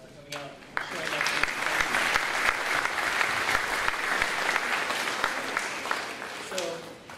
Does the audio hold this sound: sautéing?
no